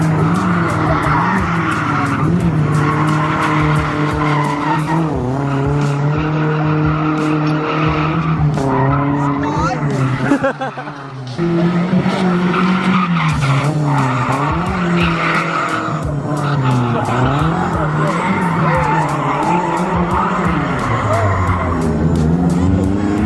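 Tires squeal and skid continuously while a drift-spec race car engine screams and shifts pitch during tandem drifting, loud and close, with a brief dip midway.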